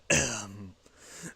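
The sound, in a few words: imitated cough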